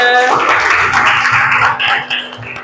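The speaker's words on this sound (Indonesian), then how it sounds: "Oke, tepuk tangan untuk kita semuanya" A classroom group claps briefly at the start of a morning lesson, a short burst of applause that is soon joined by voices speaking over it.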